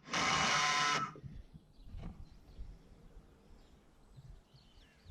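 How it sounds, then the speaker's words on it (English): A power driver runs screws into timber rafters on a vegetable garden shed. One loud, steady burst lasts about a second, then faint workshop clatter follows without talk. "But screws are going in, as you can see."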